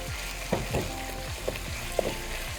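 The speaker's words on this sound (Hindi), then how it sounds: "यहाँ हम अदरक लहसुन सौते करके इसमें हम अपनी चिकन क्यूब ऐड कर देंगे, इसको सफ़ेद होने तक पकाएंगे।" Chicken cubes sizzle in a pan with sautéed ginger and garlic, a steady close frying hiss broken by soft stirring scrapes, with no voices.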